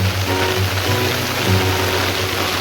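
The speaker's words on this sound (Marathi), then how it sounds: "शांत रीतीने पाऊस हा पडतोय" Heavy monsoon rain pours down steadily over a village on a windless day, a dense, even hiss of falling water with no voices.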